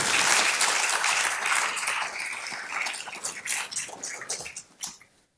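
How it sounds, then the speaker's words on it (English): A lecture audience gives a quick round of applause, dense clapping that starts full and loud, then thins into scattered, separate claps and dies away. "can we give them a quick round of applause?"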